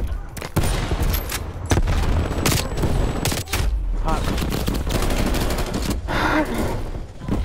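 Dense automatic gunfire from Call of Duty: Black Ops Cold War multiplayer crackles in rapid bursts and overlapping volleys, loud and almost unbroken, with occasional heavier booms mixed in.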